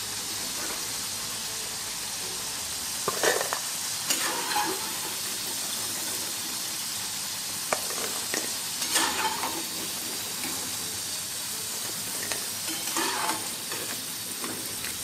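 Potato pieces for pickle fry in hot oil with a steady, dense sizzle, broken by a few stirring scrapes and bubbling bursts, with no voices.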